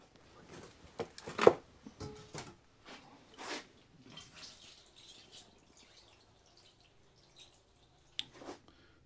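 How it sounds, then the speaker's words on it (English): Soft trickles and drips of water patter intermittently onto seed trays, with scattered light splashes and quiet pauses between. "So I'll give that a quick water."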